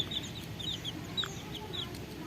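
Young desi chicken chicks peep and cluck in a series of short, high chirps scattered over a steady low background hum, moderately near and fairly faint.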